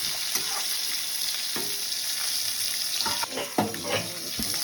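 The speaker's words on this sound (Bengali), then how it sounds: "আলুটা একটু ভাজা ভাজা দেবো" Potatoes sizzle and crackle in a hot pan, with occasional scraping and stirring clatter over the constant frying hiss.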